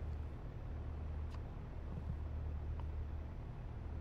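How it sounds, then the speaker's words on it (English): Road traffic passing steadily at a distance, a continuous low rumble with a couple of faint higher swishes, heard from a small aircraft setting during an X-Plane virtual reality flight session. "More traffic going by."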